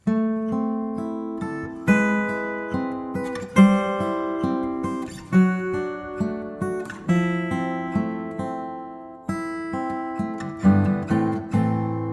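The fingerpicked acoustic-style guitar intro of a song, played solo and clearly, with arpeggiated chords ringing out over a descending chromatic bass line in a slow, even rhythm.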